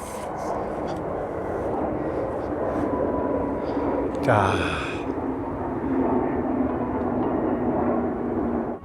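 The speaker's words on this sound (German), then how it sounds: "Da ist Flugzeug." An airplane passes overhead during an outdoor hike, a steady, distant engine roar that fills the scene throughout, with a short spoken word partway through.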